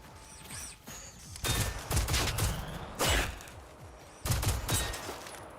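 Gunfire in the video game Generation Zero: several loud bursts of rapid shots, separated by short gaps, with a busy in-game background throughout and no talking.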